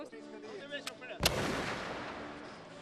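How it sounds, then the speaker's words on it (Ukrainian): A single sharp pistol shot cracks loudly after some indistinct voices and a click at an outdoor Cossack festival in Lviv, followed by a lingering echo that slowly fades. "Вистрілила влучно, правильно"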